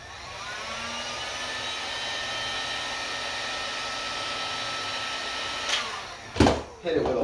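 A heat gun blows a steady, even airflow while warming a tight ferrule on a golf iron before it is epoxied on; the whoosh holds constant, then ends in a few short, louder bursts near the finish.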